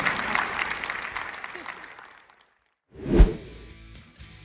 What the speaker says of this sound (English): Let's keep those round of applause going to the rest.